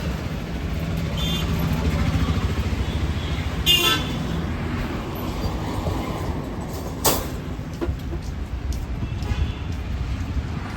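An MJ Transportation vehicle arrives at the roadside with its engine rumbling, then gives two short horn toots several seconds apart amid steady traffic noise.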